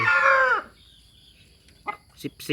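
A Thai fighting rooster lets out a loud, close crow that breaks off sharply, followed by quieter clucks and brief rustling.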